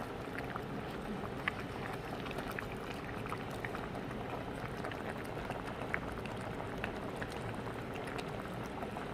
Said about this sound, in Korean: 이제 이 김치가 투명해질 때까지 끓여주셔야 돼요.